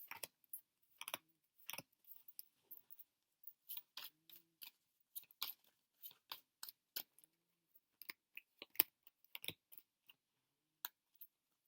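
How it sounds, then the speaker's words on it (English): A deck of tarot cards is shuffled and riffled close by in quick, irregular bursts of crisp flicking and tapping, with short pauses between them and no talking. "This one's always a big deck to"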